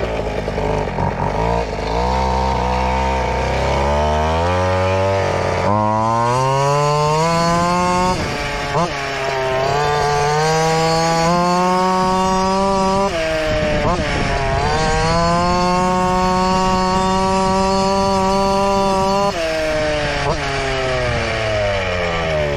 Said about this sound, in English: This thing sounds like a hair too lean.